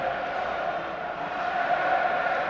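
A steady roar from a large rugby stadium crowd cheering and chanting during a 1995 France v Scotland match, sustained and swelling slightly, heard as a broad distant wash with faint commentary beneath.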